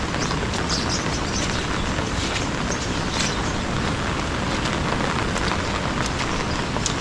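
Heavy rain pours down steadily in a dense, unbroken hiss across the full seven seconds, with no voices heard.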